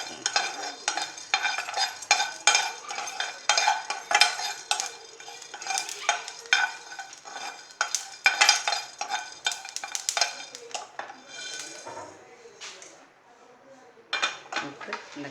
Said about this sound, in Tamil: தனித்தனியாக வறுத்து எடுத்துக்கணும்